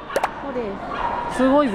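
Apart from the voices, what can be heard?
dogs barking at Pet Expo in Makuhari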